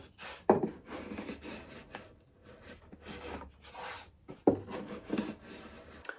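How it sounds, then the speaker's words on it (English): A cabinet scraper works along the wooden binding on the back of a guitar body, giving soft, quiet rasping strokes with a few sharper scrapes, close up and with no talking. "I can finish it off with the cabinet scraper."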